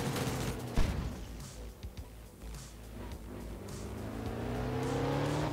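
A group A rally car in Art of Rally revs and accelerates, engine pitch rising steadily toward the end after a sharp knock near the start, mid-distance and fairly quiet.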